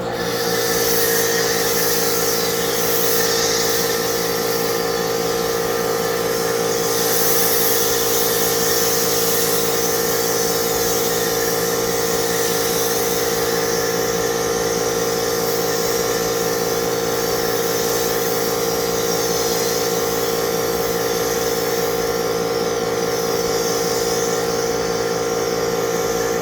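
Foam cannon blasting Feynlab Pure Wash car shampoo onto a car, a continuous loud hissing spray with a steady pump-like hum underneath, unbroken for nearly half a minute with no talking.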